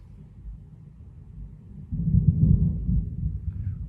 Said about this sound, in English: Ooh, you hear that's thundering.